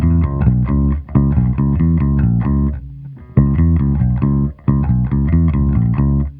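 The main motif of a track from the video game Splatoon 3 Side Order plays: a loud, distorted, chopped synth pattern of rapid repeated chords in short phrases broken by brief gaps.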